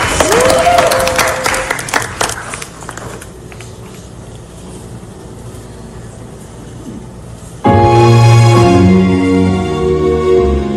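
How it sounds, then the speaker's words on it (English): Audience applause for a singer at a live show, broad clapping filling the first few seconds then thinning out before music with a singing voice starts up loudly near the end. "Round of applause, everyone."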